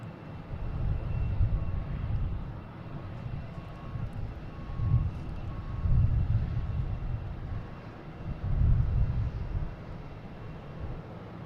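Delta airliner departing Boston Logan on a flight to Cincinnati, a steady low jet-engine roar that swells and fades in broad waves, moderately distant, with no talk over it.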